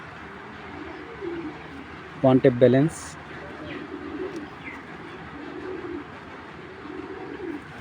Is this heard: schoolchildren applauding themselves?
no